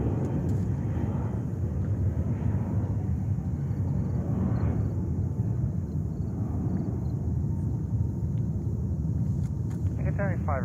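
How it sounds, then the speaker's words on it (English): Air India Boeing 777 departing JFK on its takeoff roll toward Mumbai, a steady, loud broadband jet roar rumbling continuously throughout, with faint speech-like sounds over it. "Air India 777 takeoff to Mumbai"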